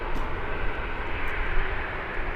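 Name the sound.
Qatar Airways aircraft arriving at Birmingham airport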